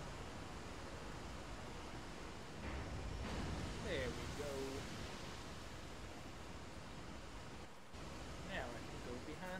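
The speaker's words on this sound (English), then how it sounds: "A waterfall." A waterfall in the video game Resident Evil 4 gives a constant, dense rushing hiss throughout, with faint game sounds and a bit of speech layered over it.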